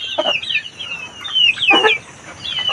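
Mountain-raised chickens cluck nearby in short, bright bursts, several calls scattered over a few seconds against quiet outdoor background.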